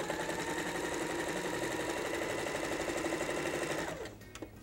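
Sewing machine stitching a piece of fabric lining for an eyeglass case, a steady continuous whirring hum running for about four seconds before it slows and stops near the end.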